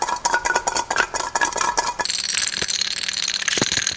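Garlic cloves shaken hard between two bowls in a home kitchen, a loud, continuous clattering rattle with rapid rhythmic knocks throughout, close up and with no voices.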